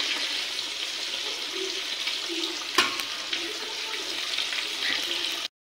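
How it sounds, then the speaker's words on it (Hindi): Masala frying in a pan, a continuous, hissing sizzle at moderate volume with one sharp clink midway before it cuts off abruptly. "इधर मेरा मसाला भुन रहा है, भुनने को आ गया है"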